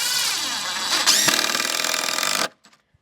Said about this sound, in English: Run them in until they're just the top of the head of the screw is just below the surface.